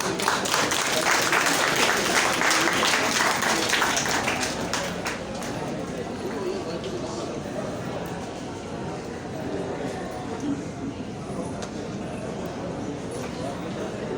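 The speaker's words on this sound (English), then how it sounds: "A resounding applause, please, for artist Maria Amor Davao." Applause from an audience at an art festival opening for a painter and singer, a sustained wash of clapping that starts strong and eases slightly over its length, with some voice mixed in.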